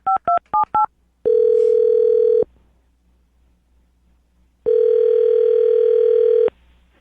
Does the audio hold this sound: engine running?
no